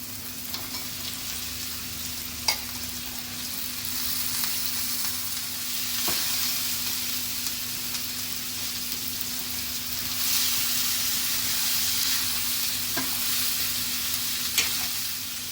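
Ivy gourd (tondli) fries with a steady, close sizzle in a pan for a Ganesh Chaturthi offering thali, with a few sharp scrapes and knocks of stirring breaking through the continuous hiss.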